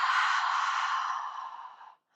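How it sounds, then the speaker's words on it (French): Single long exhale during a morning yoga flow, a close, breathy rush of air that fades out after about two seconds, with no voice over it. "On inspire par le nez et on expire par la bouche."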